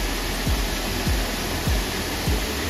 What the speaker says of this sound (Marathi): तर मित्रांनो धबधबाचं बघून झालं आहे.